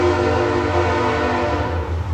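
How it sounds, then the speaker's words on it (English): A train rumbles steadily past at close range, loud and continuous, with a sustained horn tone layered over the rolling noise, heard outdoors beside a garage project on a Ford Fox-body car. "excuse the train that's about to come by"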